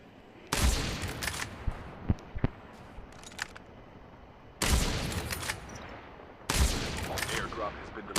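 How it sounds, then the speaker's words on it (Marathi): Rapid bursts of automatic gunfire crackle in a battle royale video game match, three loud sustained volleys with a few sharp single shots between them, set against background game ambience. "बघा इथे फायरिंग होते आता"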